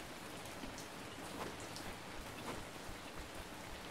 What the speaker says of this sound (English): Is it just raining over there?